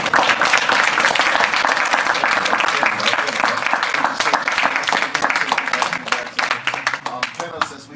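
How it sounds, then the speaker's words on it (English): Audience applause for the panelists at a police accountability panel event: dense, loud clapping that gradually thins into scattered claps toward the end. "Let's give our panelists a round of applause."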